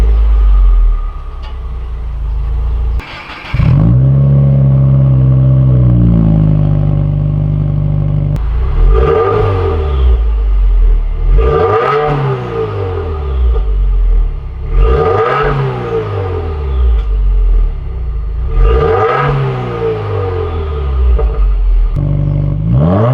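Subaru WRX with its muffler deleted, started up and revved repeatedly: a loud idle rumble broken by four or five sharp throttle blips that climb and fall back, spaced a few seconds apart, close by and with no talk.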